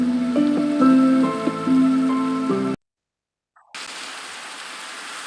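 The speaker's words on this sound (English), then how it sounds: "So, started raining again" Gentle synthesized music from Minecraft Java Edition plays, cuts to a moment of silence, then a steady hiss of in-game falling rain begins.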